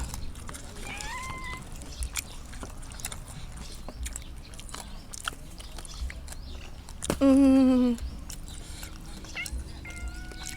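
One loud, drawn-out meow from a cat nearby stands out over a low background of scattered clicks and rustling.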